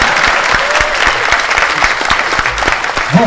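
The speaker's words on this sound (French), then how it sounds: "Vous vous rendez compte pourquoi vous applaudissez?" Loud, dense audience applause at a convention stage show, close and continuous, with occasional sharper individual claps and a low crowd murmur underneath.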